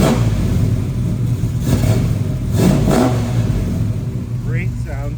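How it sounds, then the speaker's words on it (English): A 1966 Chevy II Nova SS with a rebuilt 350 V8, cam and Hurst 4-speed, idling in neutral, then revved in a couple of rising blips that fall back to a rumbling idle, loud and close. "So I'll rev it up a little bit for you so you can hear."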